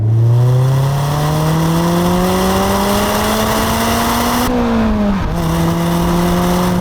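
A loud 2019 Mazda MX-5 30th Anniversary engine revs steadily higher under hard acceleration, pulling from about 2,000 to 7,500 RPM, briefly dipping at a gear change before climbing again.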